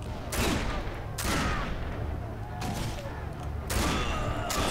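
Cannons fire in the game Risen 3: Titan Lords, with several heavy, sharp blasts spaced about a second apart over a low rumbling background.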